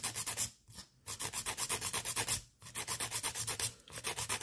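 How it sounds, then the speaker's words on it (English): Acrylic nails being filed with a nail file, close and quiet rapid rhythmic rasping strokes in bursts separated by short pauses. "Filing away."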